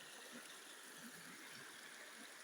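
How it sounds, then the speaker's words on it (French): Soft, continuous lapping and trickling of a stream in Gabon, a faint even wash of water with gentle low burbles and no voices. "C'est très bon d'écouter l'eau clapotis dans un langage clapotique et de cerner les mélodies, le langage de l'eau."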